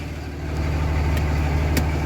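A pickup truck engine idles while warming up, a steady, close low rumble with an even throb that holds throughout, a couple of brief faint ticks over it.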